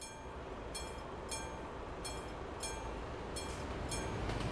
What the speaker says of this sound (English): And there is the train.